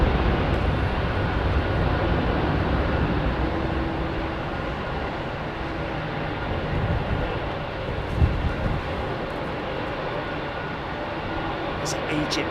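EgyptAir Airbus A320neo departing Heathrow's runway 27R, a loud, dense broadband engine roar that holds steady then slowly eases, close and continuous, with faint voices underneath.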